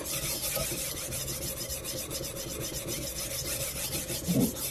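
Steady, continuous rasping of abrasive rubbed across a budget knife blade, cleaning up the scratches left by aluminum oxide, heard close and alone with an even, unbroken rhythm.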